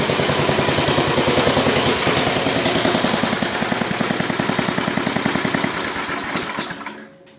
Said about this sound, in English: that is basically a very good running Tecumseh